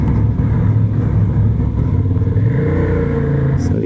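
Honda CB750 Hornet motorcycle engine revving loudly and steadily on a test ride, a close, continuous rumbling drone that climbs slightly in pitch toward the end, with no talking.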